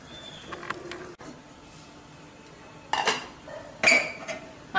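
A lid is set onto a pot of boiling herbal leaves, two loud metallic clanks close together near the end, after a quiet stretch with light clinks.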